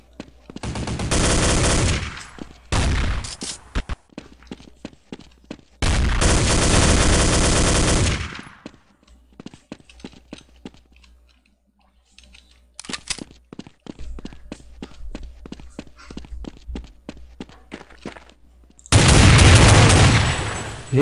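Counter-Strike 1.6 gunfire on a favela map, with loud automatic bursts of a second or two separated by gaps filled with rapid single shots and footsteps, ending in another heavy burst.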